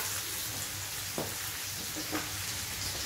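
Ingredients for an Indo-Chinese dish are stir-fried in a pan, giving a quiet constant sizzle with a couple of short spatula scrapes, close up and without talk.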